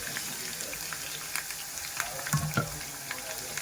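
Bitter gourd frying in a pan over a medium flame, a steady soft sizzle with a few light scrapes of stirring near the end; no talking.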